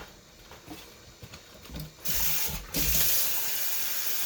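Kitchen tap turns on and water runs hard into a sink while cooking aloo gobi, a sudden steady rush after a few soft clinks and rubs, briefly interrupted then resuming loudly.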